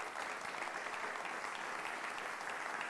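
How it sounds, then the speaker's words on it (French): Dense, steady applause from a studio audience on a French television show, sustained and even throughout, with no speech on top. "Je vous demande de les applaudir"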